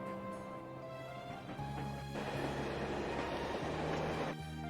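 A train passing in the video game Trails From Zero, set in Crossbell: a steady low rumble and rattling rolls by, swelling louder in the middle and holding close and continuous over a musical background.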